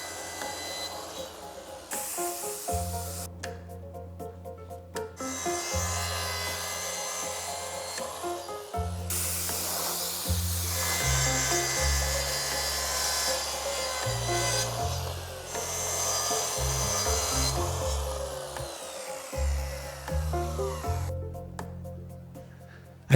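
Powered saw cutting through wood along a guide track in a woodworking shop, a loud continuous buzzing cut with shifting pitch over about twenty seconds, the blade briefly spinning down and restarting between passes.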